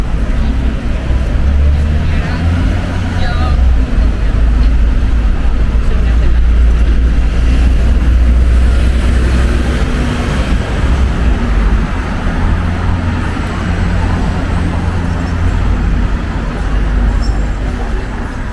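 Busy city street traffic along a riverside promenade in Zaragoza, Spain, at evening rush hour: a steady, loud roar of cars and buses passing close by, continuous throughout, with a voice speaking briefly over it.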